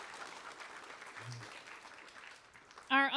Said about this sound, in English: ask them for a round of applause for being a great sponsor